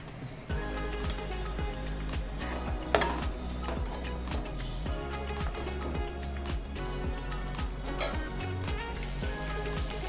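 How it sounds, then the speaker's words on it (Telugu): Tamarind leaves frying in a pan, with a steady close sizzle and scattered crackles and pops running throughout, plus a brief utensil clink near the middle. "ఇప్పుడు ఇదే ప్యాన్లోకి చింత చిగురుని వేసుకొని వేపుకోవాలి"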